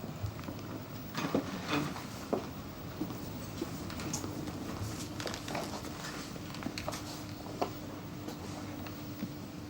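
Rain patters steadily and faintly as a soft continuous hiss with scattered light drips and taps throughout, no voices over it.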